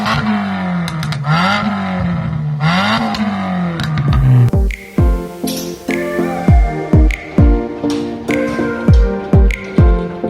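A Nissan Micra car idles with a warbling engine tone, then starts to move off while sharp rhythmic ticking or clunking repeats steadily as it pulls away, loud and close.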